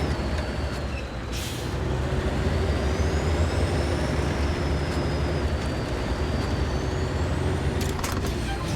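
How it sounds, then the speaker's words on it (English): Heavy truck being delivered in the video game Expeditions, a steady loud engine rumble with a faint hissing whine and brief air-brake bursts, no voices. "And we can go ahead and deliver the truck."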